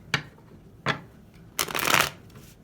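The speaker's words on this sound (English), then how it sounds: "I'm going to shuffle these up" Tarot cards being shuffled by hand, three crisp riffling bursts with short pauses between them, the last one longer and fuller, close and clear with no talking.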